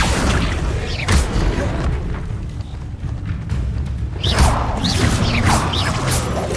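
Spell effect from a Harry Potter video game, the Accio summoning charm, cast amid Levioso and Incendio spells: loud booming, crashing bursts with whooshing sweeps, a dense roar that swells again near the end.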